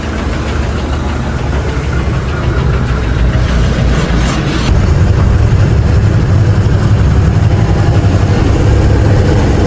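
A long-haul truck's engine runs steadily at idle, a loud, continuous low rumble and knock that holds unchanged throughout with no voices.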